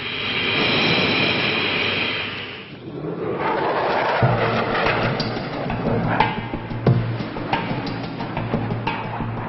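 An airshow airplane rolls down the runway on its takeoff run, a loud roar of engine noise that dips briefly and then swells and holds, with no one talking.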